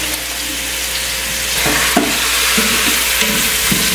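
Meat sizzling and frying in a cooking pot, a loud steady crackling hiss close up, with a few stirring scrapes and clinks partway through and no talking.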